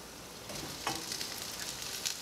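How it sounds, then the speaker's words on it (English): Eggs sizzle in a hot pan, a steady bright frying hiss that swells louder partway through as they are stirred, close and continuous with no talk. "The pan is plenty hot to cook these eggs."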